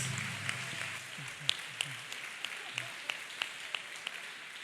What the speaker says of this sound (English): Let us clap hands for the manager from His Word Ministry International